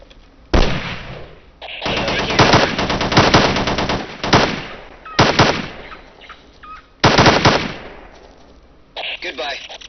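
Rapid bursts of M21 rifle fire in the Ghost Recon video game with a first-person weapon mod, several loud sustained volleys separated by brief pauses, with someone talking in between.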